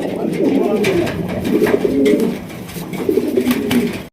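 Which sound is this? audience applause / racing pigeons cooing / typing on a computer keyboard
racing pigeons cooing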